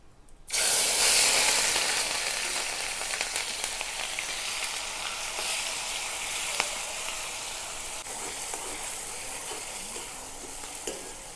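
Onion, ginger and green chilies hit a pan of softened spice paste for a papad curry, bursting into a loud sizzle that settles into a steady, crackling fry with occasional stirring clicks.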